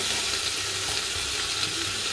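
A spice mixture with dried coriander fries in a pan for a chicken lasagne, giving a steady, close sizzle and hiss with faint stirring.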